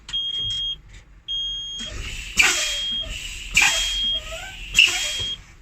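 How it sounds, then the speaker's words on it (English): Truck air brakes pumped repeatedly while a steady high low-pressure warning alarm beeps; three sharp bursts of air release in an even rhythm rise over the continuous tone. "I will start pumping my service brakes until my low pressure light comes on"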